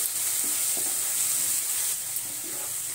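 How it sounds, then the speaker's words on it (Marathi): Four green chillies are sautéed in a pan, giving a steady, close sizzle with faint stirring scrapes throughout and no talking. "आता आपण 2 मिनिटं हे परतून घेऊ।"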